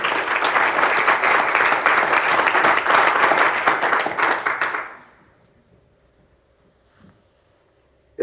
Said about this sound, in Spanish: Vamos, denle un aplauso al Señor.